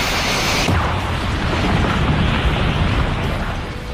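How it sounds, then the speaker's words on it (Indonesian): A large, roaring explosion from a huge energy laser blast in a Dragon Ball anime fight, a sharp onset swelling into a sustained loud rumble with no talk. "mengakibatkan ledakan yang cukup besar di tempat tersebut"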